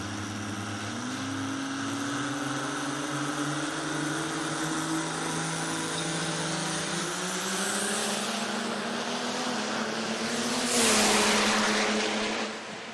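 A mechanical race truck on a qualifying lap gives a steady, sustained engine drone whose pitch climbs gradually, swelling louder near the end as it passes, with no talking.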